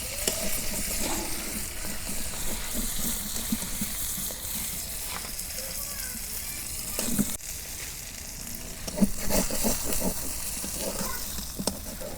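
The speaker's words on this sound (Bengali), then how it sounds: "তেল গরম হচ্ছে, রুই মাছের মাথাটা বাইজা নেবো আগে" Rohu fish frying in hot oil outdoors in a village kitchen, with a steady, dense sizzle and crackle throughout and a few louder spits and stirring knocks. The setting is breezy.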